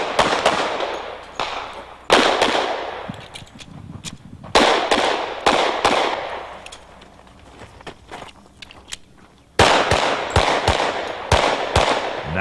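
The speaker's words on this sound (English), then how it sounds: "Nice shooting, Chip." Pistol shots at an IDPA shooting match in 1997, sharp loud cracks fired in rapid strings and doubles with short pauses between, echoing outdoors with no talk.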